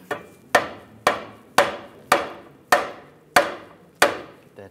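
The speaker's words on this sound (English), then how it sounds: "I'm just gonna use a rubber mallet, give it a tap." Rubber mallet tapping a front lower control arm on a 1998-2010 Volkswagen Beetle, seven evenly spaced sharp knocks about every half second, close and loud with short decays, no talk.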